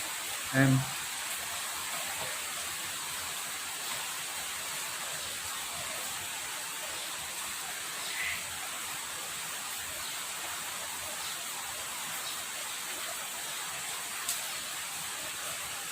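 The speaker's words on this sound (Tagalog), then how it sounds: "Kaso biglang lumakas yung ulan." Heavy rain pours steadily outside in a garden, a dense, even hiss that holds for the whole stretch with only a few faint knocks above it.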